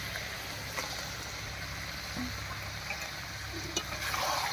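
Chicken with fried mushrooms, green chilli and garam masala paste stirred in a frying pan, giving a steady soft sizzle with faint scraping and a few light clicks of the utensil, with no talking.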